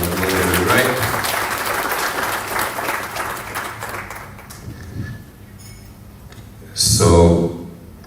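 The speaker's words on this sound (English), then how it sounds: "a round of applause" Audience applause at a Nairobi conference event, dense clapping that gradually thins and fades, followed by a short burst of louder noise near the end.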